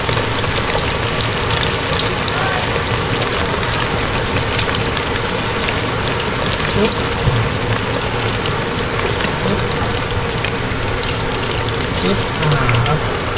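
Steady, dense sizzling and crackling of chicken wings deep-frying, fully submerged in hot oil in a pot, loud and close, continuing without pause.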